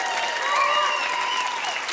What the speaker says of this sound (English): so clapping